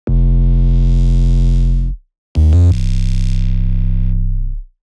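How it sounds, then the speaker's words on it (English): Two loud, heavily distorted synth bass notes through near-maximum tube distortion and a low-pass filter, the first held about two seconds, a brief gap, then a second gritty note sustaining to the end. "I've cranked up the tube distortion almost all the way"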